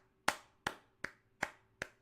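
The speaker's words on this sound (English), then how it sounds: "I mean, what else can you do but clap for this guy at this point?" Five slow, evenly spaced hand claps, sharp and close, alone with no talk.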